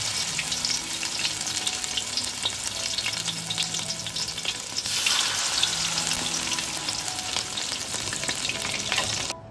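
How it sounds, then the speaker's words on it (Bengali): Jute leaf (pat shak) fritters fry in hot oil with a steady, crackling sizzle, joined by occasional stirring scrapes. The frying grows a little louder midway, and no one speaks. "ওই একইভাবে বাকি বড়াগুলোও ভেজে নেব"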